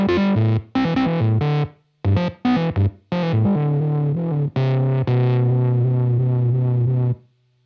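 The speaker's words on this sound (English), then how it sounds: "It's already very crunchy, almost like that driven kind of Rhodes." Distorted, crunchy piano-like synth in the manner of a driven Rhodes, run through a Universal Audio Enigmatic amp sim pedal, playing loud choppy chords in short bursts with gaps before a longer sustained final chord.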